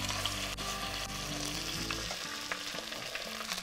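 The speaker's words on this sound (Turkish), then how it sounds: "Şimdi mühürlemeye geçiyorum." Beef cheek sears in sunflower oil in a cast-iron pot, giving a loud, steady sizzle and crackle of frying with a low rumbling undertone throughout and no speech.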